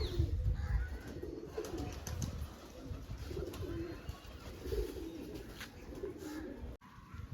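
Pigeons coo repeatedly in low, soft bursts close by as they feed, over a steady rustle of strong wind and movement.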